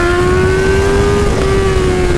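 A Honda CB1000 motorcycle engine revs hard and loud up close, a sustained strained tone that climbs slightly and holds steady with no talking.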